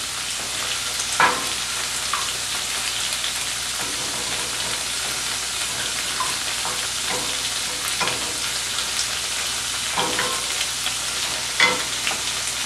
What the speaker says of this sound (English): Now all you're going to do is just gently scramble the egg.